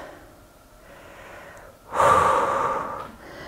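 Deep breathing in a yoga flow moving from warrior two into triangle pose: a soft inhale, then a louder, fuller exhale lasting over a second, close to the microphone, with no talk over it.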